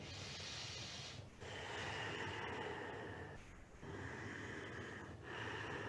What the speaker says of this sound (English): Just keep breathing deeply, breathing into the belly.